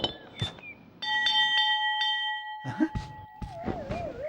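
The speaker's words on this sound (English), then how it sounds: "now we've actually got the bell, so I think this will do the trick to able to call out for Owl" A bell rings in the Winnie the Pooh video game to call Owl, several bright clanging strikes with a long sustained tone, followed by quirky game sound effects.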